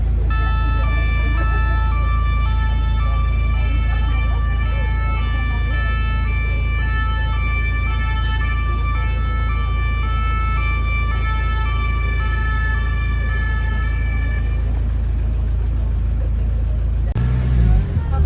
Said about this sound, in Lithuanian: Išvažiuoja, palauk, policija išvažiuoja, dėl to sustabdė eismą.